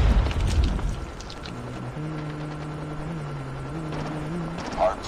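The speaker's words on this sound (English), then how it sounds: "Stealth chopper" Stealth chopper helicopter in the multiplayer shooter Call of Duty Mobile: a low, steady droning rotor hum with slight pitch shifts, heard amid game noise and a brief burst at the start.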